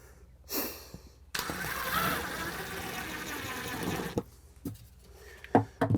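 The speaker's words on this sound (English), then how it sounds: "I'm just going to drive the screw until it pulls it in" A screw driven with a washer into a wall during a DIY bathroom renovation, a close power drill whirring in one sustained burst for about three seconds, followed by brief clicks and knocks.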